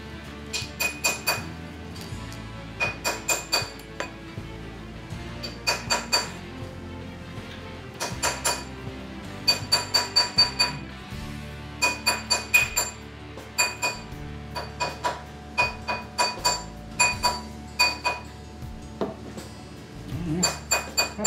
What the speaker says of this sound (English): You put it on this ring mandrel, and my hammer, one of my favorite tools. You just tap it